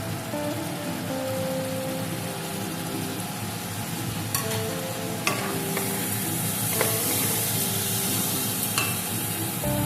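Ground cumin and Kashmiri and red chilli powders going into a hot pan for Bengali dhokar dalna, a steady close sizzle with a spoon stirring and scraping throughout, no voices.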